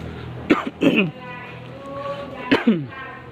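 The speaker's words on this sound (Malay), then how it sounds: "hari ini sedikit batuk" Two or three sharp coughs close to the listener, spaced a couple of seconds apart, with quiet room noise and faint ringing tones between them.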